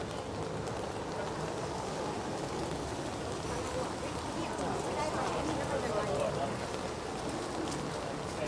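Rain falls on a city street in central London in November, a dense, steady patter and hiss throughout with scattered drip-like taps, close and continuous, while people talk faintly underneath.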